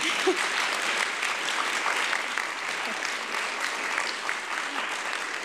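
A steady wash of audience applause greets philosopher Professor Martha C. Nussbaum as she comes on stage, even and moderately loud from start to end with no talking over it.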